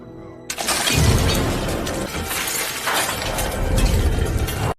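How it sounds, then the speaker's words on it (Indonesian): A robot smashes through a glass wall in the film I, Robot: a sudden loud crash opens into a sustained, dense shatter of breaking glass, with debris rattling and tinkling and a second surge before it cuts off. "Robot itu kemudian kabur melalui tembok kaca yang berlubang."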